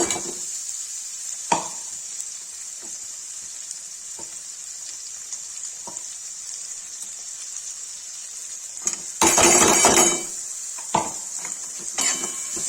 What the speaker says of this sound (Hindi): फिर इसमें मैं प्याज डाल दूँगी। प्याज हल्का मैरून फ्राई हो जाएगा।